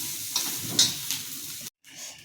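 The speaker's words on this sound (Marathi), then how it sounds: "आपले कांदे लालसर भाजले गेले त्याला एक खोबरं भाजून घेतो आपण" Grated coconut roasts with reddish-fried onions in a pan for an egg curry, giving a steady sizzle and hiss. A few stirring scrapes are heard, then a brief cut-out before the sizzling resumes more softly.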